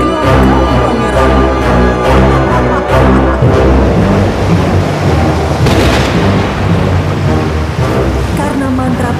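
A loud cartoon thunderstorm at sea: heavy rumbling thunder and crashing bursts mix with roaring wind, rain and big waves, dense and continuous throughout.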